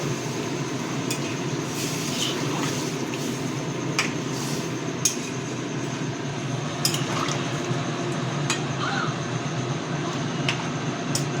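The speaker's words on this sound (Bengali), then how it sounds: "জল দিয়ে দিলাম" Water pours steadily into a cooking pot of spiced chicken with iskus (chayote squash), a continuous liquid rush with occasional small metallic clinks, close and fairly loud, with no talking.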